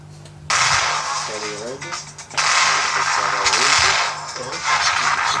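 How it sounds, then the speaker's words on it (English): A grenade launcher fires in a video game, giving sharp, loud blasts that leave a broad, hissing roar after each one. Someone talks over the shots. "Grenade launcher"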